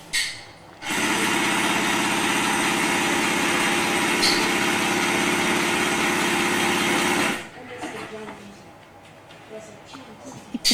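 A sewing machine runs steadily and loudly for several seconds with a squeaking belt, then stops, leaving quieter workshop clatter and faint movement.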